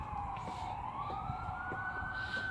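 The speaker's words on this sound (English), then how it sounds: "Lots of sirens though." An emergency siren wails steadily at a distance, its pitch slowly sweeping upward over a low rumble of traffic.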